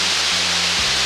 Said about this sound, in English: Another waterfall, waterfall number 2.